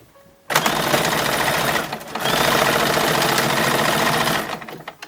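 A sewing machine stitches a skirt onto a toddler's 1910s-style summer dress, running in two rapid, continuous bursts separated by a brief pause, close and loud.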